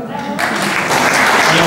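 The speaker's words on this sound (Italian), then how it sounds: "Un applauso alla signora." An audience at a local public meeting bursts into applause for a woman, the clapping starting abruptly after a moment of near quiet and continuing loud and steady, close to the microphone.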